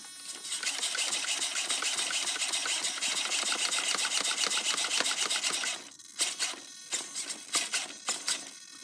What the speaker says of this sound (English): So that's the stock servo.